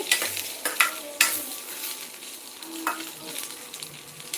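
Sweet corn kernels frying in oil over a medium flame, a close crackling sizzle broken by several sharp stirring scrapes and clinks, with no talk.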